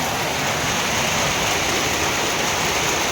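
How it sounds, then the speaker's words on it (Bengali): Heavy rain pours steadily during a hailstorm, a dense, loud, continuous hiss and roar with no pauses. "বৃষ্টি কিন্তু ভালো জোরেই হচ্ছে"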